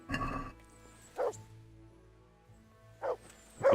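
Dog in Kingdom Come: Deliverance giving several short barks and yips, spaced apart with quiet gaps between them, close and clear.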